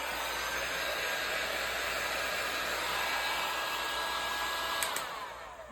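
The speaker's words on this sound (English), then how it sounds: "Now let me get my heat gun." A heat gun blows steadily on ocean-style resin art on a clock, a loud continuous broadband whoosh that holds throughout before easing off at the very end, with no talking.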